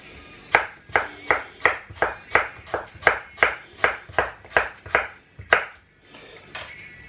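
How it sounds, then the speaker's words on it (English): A kitchen knife slicing food on a cutting board for pulled pork burgers, about fifteen crisp evenly spaced chops in a steady rhythm, close and clear, then a short pause and softer handling at the end. "We're slicing very, very poorly because my knife skills, as you all are aware by now, my knife skills are absolutely shocking."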